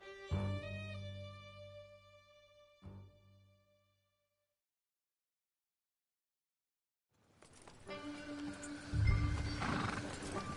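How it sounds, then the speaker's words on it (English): A horse in Red Dead Redemption 2 whinnies loudly with a rising and falling neigh, followed by a snort, then silence before hooves clatter and the horse neighs again amid busy noise. "Get back on your horse, John."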